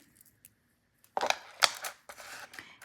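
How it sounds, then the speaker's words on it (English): Sharp snips of wire cutters cutting jewelry wire for a slide clasp bracelet, a few crisp close clicks with light handling noise around them, no talking. "Cut off the wire."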